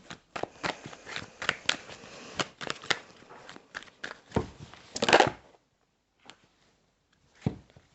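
Tarot cards shuffled: rapid papery riffling, a quick run of soft flicks and snaps close up, ending with a firmer shuffle burst and a few scattered taps.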